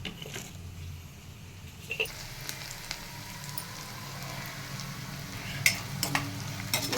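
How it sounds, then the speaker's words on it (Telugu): Onion fries in a pan with green chilli for a potato fry, a soft, steady sizzle close by, punctuated by a few sharp clicks and stirring knocks, with no voices. "ఉల్లిపాయ వేగుతుందండి"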